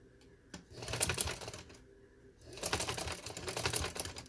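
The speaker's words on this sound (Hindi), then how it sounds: "अब आता है सिलाई की बारी।" A sewing machine stitches silk piping in two bursts of rapid, rattling needle clatter separated by a brief pause, close and fairly quiet.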